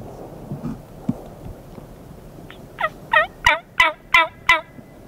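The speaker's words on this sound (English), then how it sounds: "He's right down below me, gobbling." A wild turkey gobbles outdoors on a hillside, six rapid, rattling calls rising out of soft ambient noise after a few faint knocks, fairly close and clear.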